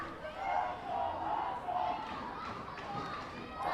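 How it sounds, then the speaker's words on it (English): Minor-league baseball crowd at a Reading Fightin Phils home game against the Richmond Flying Squirrels chanting "Let's go hot dogs" in a steady rhythmic roar that fills the stadium throughout. "The fans are chanting"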